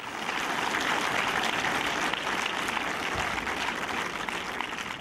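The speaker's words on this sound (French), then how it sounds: "C'est sous les applaudissements du public troyen que Gérard Darmon et Maurice Barthélémy ont donné le coup d'envoi du festival 3 premières marches" A cinema audience in Troyes applauds at the opening of the 3 premières marches film festival, a dense, even wash of clapping that holds steadily throughout with no voices above it.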